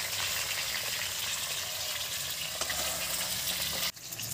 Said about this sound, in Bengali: তার মাছটা একটু ভালো করে ভাজতে হবে।